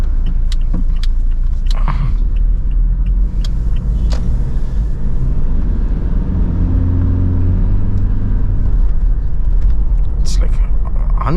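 A Toyota Fortuner accelerates hard on the road, its engine a deep, close rumble that swells and builds steadily, with someone talking over it throughout.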